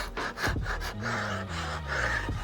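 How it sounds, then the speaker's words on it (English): Hand scraping of old finish from redwood window siding during a refinishing job, heard as repeated rough scraping strokes close by, with a low steady hum underneath and no talking. "He's got to go slow and scrape these different levels of the windows."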